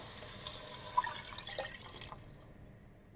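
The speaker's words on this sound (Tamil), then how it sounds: "ஸோ அந்த மெஷர்மெண்ட்டில் இப்போ நான் தண்ணி ஊற்றிக்கிறேன்" Water is poured into a cooking pot while making vegetable biryani, a quiet, short splashing and trickling of liquid that builds briefly, then drips and fades into near silence.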